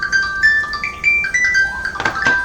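A phone rings during a Breath of the Wild gaming session, a sequence of bright electronic ringtone tones stepping up and down in pitch, fairly loud and close, with a brief burst of noise near the end.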